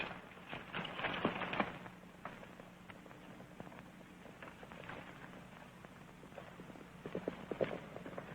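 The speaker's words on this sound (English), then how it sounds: "He's trying to steal the mare. He's a smart horse." Horse hooves clip-clop faintly in bursts on ground, light irregular footfalls coming and going in a quiet outdoor scene from a 1940s Western film.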